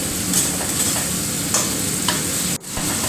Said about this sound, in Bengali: দিয়ে দেবো ওর মধ্যে কিছুটা পরিমাণ জিরে গুঁড়ো দিয়ে ভালো করে কষিয়ে নিতে হবে